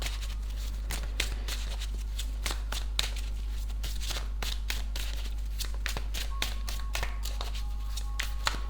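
Tarot cards being shuffled by hand, a dense, steady run of soft rapid riffles and taps close up over a low constant hum, with no talk.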